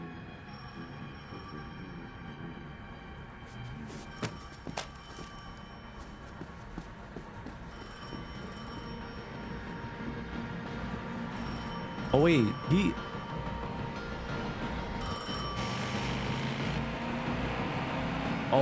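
An in-game telephone in Destiny rings in repeated bursts beneath a streamer talking over it, set against a constant low mechanical rumble.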